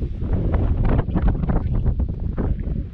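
Strong mountain wind at about 1700 m altitude, buffeting the microphone in a loud, continuous rushing roar that gusts unevenly and has no voices over it.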